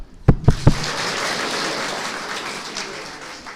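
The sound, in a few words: audience clapping hands three times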